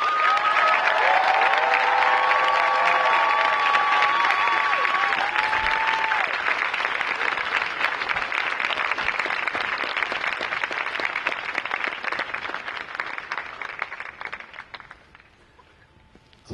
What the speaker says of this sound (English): We ask that everyone take a moment to give a round of applause to everyone who has encouraged and supported us during the past 4 years.